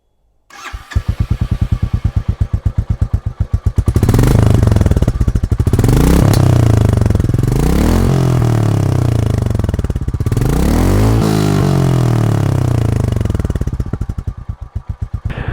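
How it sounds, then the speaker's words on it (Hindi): A 2024 Royal Enfield Classic 350 motorcycle starts up and settles into a loud, close thumping idle, with several blips of the throttle rising and falling throughout. "आपको इसका एग्जॉस्ट नोट सुनाता हूँ"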